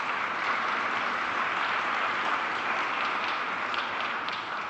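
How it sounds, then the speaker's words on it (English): Steady, dense applause from an audience at a real estate industry panel, honoring Centennial College students, holding at an even level throughout without fading. "A warm round of applause for Centennial College students."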